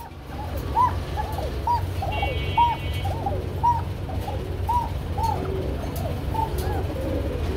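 A racer pigeon coos in a repeated run of soft rounded calls, about a dozen evenly spaced notes over a low background hum, close and moderately quiet.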